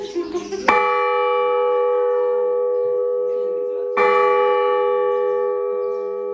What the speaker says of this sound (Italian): Adesso suoniamo la campana per dare energia.